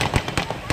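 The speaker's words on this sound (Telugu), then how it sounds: "కేక్ కటింగ్ తర్వాత టపాసులు." Firecrackers set off after a cake cutting burst in a rapid string of sharp pops and cracks, four or five quick bangs close together.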